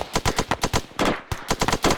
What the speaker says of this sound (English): Section, rapid fire